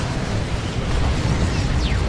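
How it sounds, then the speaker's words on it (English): Heavy mortar shells exploding in Dawn of War 2 battle, a dense continuous rumble of blasts and bursts at steady loudness without clear separate impacts. "They've got their heavy mortar cannon as well, giving them maximum damage on those mortar shots."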